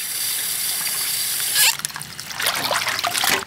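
Vegetables including cucumber, green beans, chili, onion, scallion and bean sprouts are washed under running water: a steady hiss of flowing water, then splashing and trickling as the stream is broken up, close by, with no talk.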